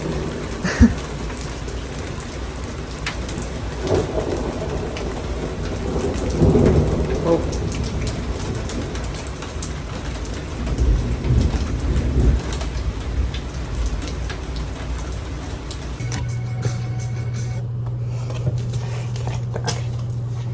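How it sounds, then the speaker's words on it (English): Heavy thunderstorm with steady loud rain drumming on surfaces and deep rolling thunder swelling several times, ending with a low constant hum; no talking, in Cape Breton. "It's really storming."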